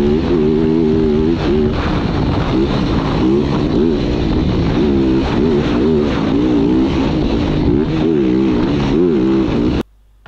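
An off-road motorcycle blasting flat out across a desert track, its engine droning loud and close with rising and falling revs as gears shift, cutting off abruptly at the end.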